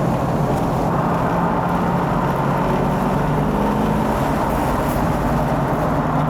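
A 1996 Corvette Grand Sport with an LT4 engine and ZF transmission cruises along, giving a steady, even low engine drone and road rumble heard from inside the car, with no talk.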